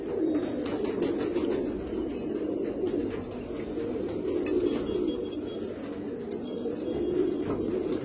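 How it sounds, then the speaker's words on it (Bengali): White pigeons cooing steadily at close range, a low continuous throaty murmur from several birds layered together with no talk over it. "এসব পায়রা, সাদা পায়রা দেখো।"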